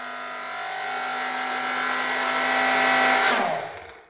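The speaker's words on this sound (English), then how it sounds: "Yep, it's the blender." A kitchen blender runs loud and steady for about three seconds, then spins down and stops. Its motor whine holds a constant pitch before it drops away, with no talking over it.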